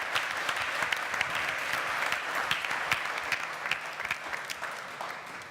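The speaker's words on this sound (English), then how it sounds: "Another round of applause." An audience at a civic recommendations event for the mayor applauding, a dense, steady round of clapping from many hands that carries on throughout at even loudness.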